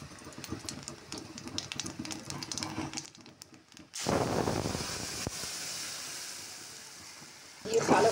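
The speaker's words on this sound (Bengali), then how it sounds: "তেলটা কিছুটা ঢেলে নেবো কড়া থেকে। দিয়ে কালো জিরে দিয়ে দেবো।" Black cumin seeds hitting hot oil in a wok, with a sudden loud steady sizzle that starts partway through and holds to the end, preceded by quieter kitchen clatter.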